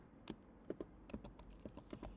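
A computer keyboard clicks out a command in a terminal, with quick irregular keystrokes, close up and fairly quiet.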